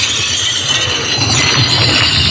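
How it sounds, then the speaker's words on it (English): A Rokform G-ROK Pro 30W portable speaker plays a loud glass-shattering sound effect outdoors on a green, a dense, sustained crash of breaking glass with no talk. "You won't just hear glass break."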